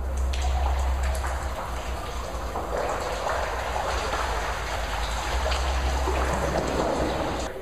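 Decorative waterfall cascading into a hotel suite pool, a continuous rushing splash of falling water, loud and steady throughout with a low hum beneath.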